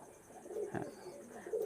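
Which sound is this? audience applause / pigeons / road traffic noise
pigeons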